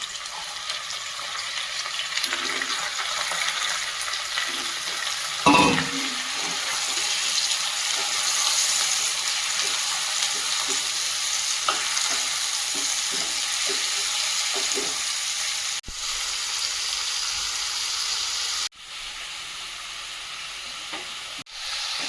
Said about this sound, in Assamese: ইয়াতে মই এতিয়া চিকেনটো দি দিম। চিকেনটো দি দিছোঁ।